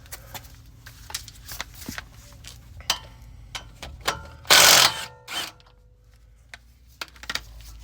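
A ratchet fitted with a swivel spins off 14 mm and 19 mm bolts under an Infiniti Q60 during an air suspension install, giving scattered close mechanical clicks and ticks with one longer, louder burst of ratcheting midway.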